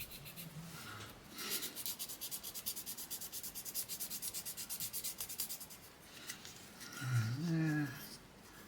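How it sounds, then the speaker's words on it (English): Fine sanding pad rubbed by hand over a plastic part of a Tamiya 1/16 Kubelwagen model kit gives a close, quiet, rhythmic scratching of quick back-and-forth strokes, with faint low murmurs at the start and end. "I'll just go over the top of it with a fine just to clear some of the scratches out a little bit."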